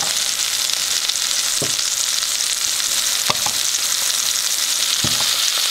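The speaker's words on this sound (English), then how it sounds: "We're going to get this in the skillet and start letting it melt." Butter melts and sizzles steadily in a skillet for French toast, a constant bright frying hiss with a few faint clicks, no talking.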